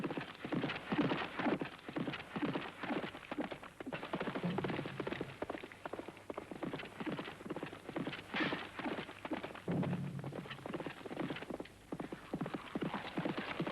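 Horses galloping during yabusame, Japanese horseback archery, a rapid rhythmic drumming of hooves on the ground, close and steady throughout.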